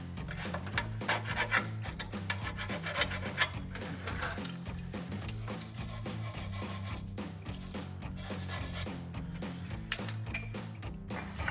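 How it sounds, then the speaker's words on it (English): The bushing mounting surface on a Jeep Wrangler TJ control arm gets cleaned up with a steady, continuous rasping scrub that runs without a break, close by at moderate level and with no voices. "Just cleaning up the mounting surface where the bushing's going."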